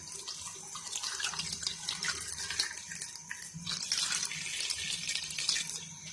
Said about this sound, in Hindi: ये मैंने वाटर ऐड कर दिया है